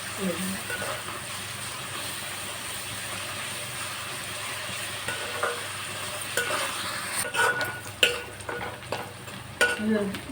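Onions fry in a pan with turmeric for a Chanduva fish curry, giving a steady soft sizzle close by with stirring scrapes and clatter toward the end, and someone speaks briefly.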